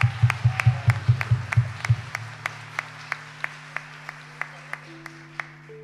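Audience applause on stage at the Spanish end-of-year lottery draw, starting as loud rhythmic unison clapping in steady beats, then thinning into softer, sparser claps as a sustained musical note enters.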